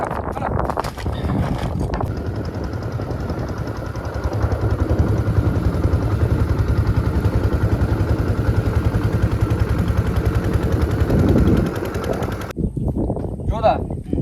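A fishing boat engine on a Sundarbans river starting up and running, a loud, steady, close mechanical chugging drone with wind buffeting, people talking over it, then cutting out near the end.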